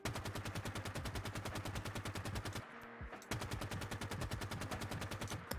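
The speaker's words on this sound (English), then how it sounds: "The assault rifle." Rapid automatic assault rifle fire from a Halo-style weapon mod in Fallout 4, close and loud, in two sustained bursts broken by a brief pause for a reload or mechanical clack.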